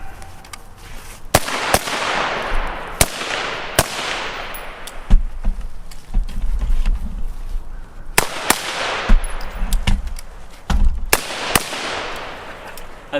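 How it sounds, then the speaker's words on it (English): Suppressed .30 caliber rifle fired through a WhisperStrike M80 suppressor, a series of sharp, loud cracks spaced irregularly over several seconds, some in quick pairs, each followed by a short ringing echo. "I took some shots at that target out there."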